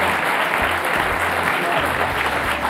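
Broad audience applause at a panel discussion in Davos, a dense, even wash of many hands clapping continuously with a low hum beneath.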